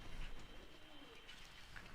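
A pigeon coos faintly and softly against steady background hiss, with a few low murmuring calls over two seconds and no talking.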